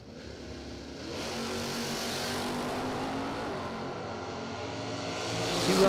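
Drag race cars, one of them a first-generation Camaro, launching at a drag strip, with a sustained engine roar that holds heavy and steady before rising toward the end.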